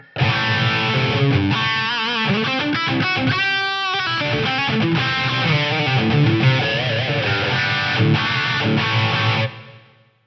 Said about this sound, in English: let's try that Hall 15 with these settings. I've still got Room Simulate on.